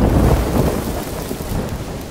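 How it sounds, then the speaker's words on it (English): Thunder from a lightning strike in Sea of Thieves crashes loud and close at the start, then rolls into a dense, steady rumble mixed with heavy rain for about two seconds. "I just got struck by lightning."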